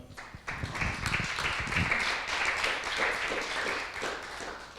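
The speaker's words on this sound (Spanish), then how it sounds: "Gloria a Dios. Un aplauso al Señor." A church congregation claps and applauds together, a steady mass of hand claps sustained for several seconds at moderate loudness, with a faint voice now and then.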